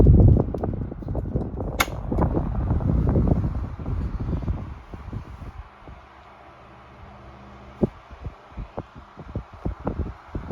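A cleaned Frigid 12-inch oscillating fan, model FD-123A, with its motor running as a steady low hum and whir, alongside intermittent knocks and thumps that fade into a quieter, steady drone.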